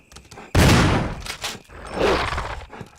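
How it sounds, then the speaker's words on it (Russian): Two loud gunshot bursts from the Resident Evil HD Remaster game ring out about a second and a half apart, each with a rough decaying tail, and no talk over them. "2 выстрела."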